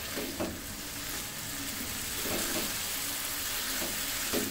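Grated carrots for carrot halwa frying in a pan, a steady soft sizzle running throughout with a few faint clinks of stirring, close and fairly quiet, no talking.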